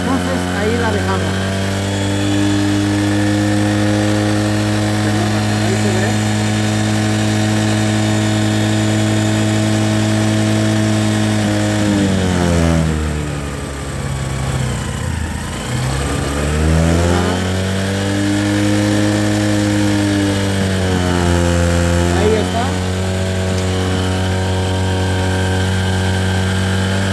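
A small motorcycle engine runs steadily at a high, buzzing idle during carburetor tuning, with clear harmonic tone, then dips and climbs through a couple of throttle swings before settling again, loud and close.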